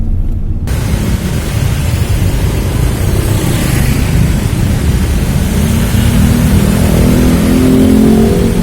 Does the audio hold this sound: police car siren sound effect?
no